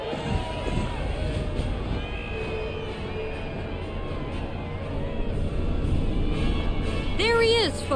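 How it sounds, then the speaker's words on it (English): Crowd noise from a parade for the new president Rufus Shinra in Final Fantasy VII Rebirth, a steady dense roar of many voices throughout, with a brief musical or whistling flourish near the end. "Can you even hear me over this crowd?"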